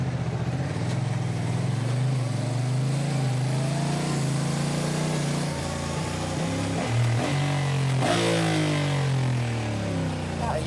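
A Honda DCT motorcycle accelerating to about 60, its engine a steady droning hum that rises in pitch with shifts along the way, heard close and continuous from the rider's position.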